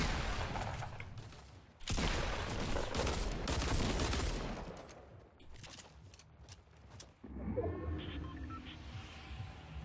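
Pistol fire rings out in Fortnite Battle Royale, a rapid string of sharp close shots in two loud volleys, followed by a quieter mechanical rattle near the end.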